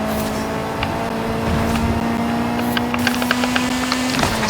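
Rally car engine in the racing video game Retro Rally, a steady sustained drone with slight pitch changes and a few clicking game sounds near the end, with no talk over it.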